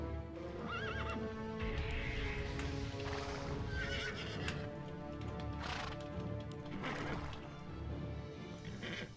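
In a video game, a horse neighs in repeated shrill whinnies over fast galloping hoofbeats, a busy layered clatter of clip-clops running throughout at moderate volume.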